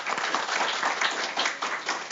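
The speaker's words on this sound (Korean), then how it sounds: "큰 박수 부탁드립니다" Audience at a Jeju forum on restoring the Hanon crater applauds steadily, a dense wash of many hands clapping throughout at fairly loud, even level with no voices over it.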